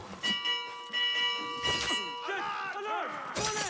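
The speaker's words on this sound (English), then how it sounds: "He's gonna ring the bell" An enemy in Assassin's Creed Mirage rings an alarm bell, giving several loud, sustained metallic peals with long ringing overtones, one strike following another, while other game sounds and voices clatter underneath.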